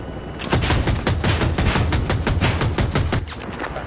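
Helicopter door gunner in Battlefield 2042 firing a rapid, sustained burst of loud automatic gunfire, close and dense for several seconds before trailing off.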